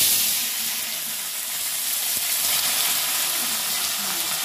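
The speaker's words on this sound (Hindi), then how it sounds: "सरसों का ऑयल काफ़ी अच्छा गर्म हो चुका है, तो अभी डालते हैं लहसुन सबसे पहले" Garlic dropped into hot mustard oil frying with a steady, close, bright sizzle that holds at an even level throughout, with no talking.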